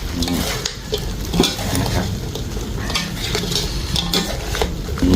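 Crispy fried snakehead fish stir-fried in a pan with southern Thai curry paste, long beans, chillies and kaffir lime leaves, giving a loud, busy sizzle with repeated clatter of utensil against pan, close up and without talk.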